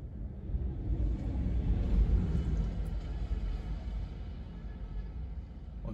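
A bus pulls in quickly at a crossroads in Jamaica, producing a heavy, rising-then-fading low rumble of engine and road noise over several seconds, fairly close and with no voices.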